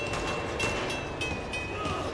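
A train in Uncharted rumbles as a steady, fairly loud rolling noise throughout, with a faint high whine and some metallic clatter above it.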